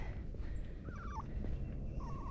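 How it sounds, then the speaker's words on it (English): A small puppy whines in thin, high wavering cries, two drawn-out whimpers heard at a moderate distance over steady low outdoor rumble at a lakeside state park campground in South Carolina, with no talking. "There's the puppy that's making a noise."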